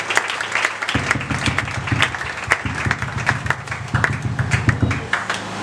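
A church congregation at a Sunday service applauds to praise the Lord, a steady run of crisp hand claps from many people, fairly close, with rhythmic thumping underneath and a few voices mixed in.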